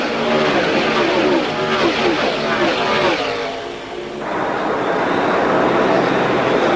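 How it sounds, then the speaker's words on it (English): Cluster of stock cars roaring out of turn 3 at the Pennsylvania 500 NASCAR race, a loud continuous engine drone that dips briefly as the pack passes, with a commentator talking over it. "here they come in that great cluster of automobiles down out of turn 3"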